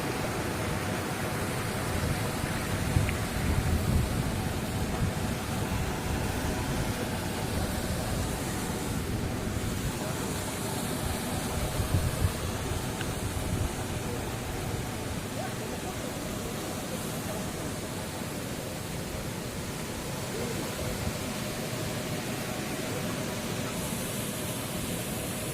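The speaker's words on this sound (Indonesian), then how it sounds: "Jadi di sini ada 2 air terjun." Waterfall at Grojogan Tempo, one of two falls at the site, a steady broadband rush of falling water that stays constant throughout, with faint talk underneath.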